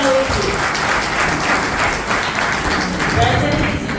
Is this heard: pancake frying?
no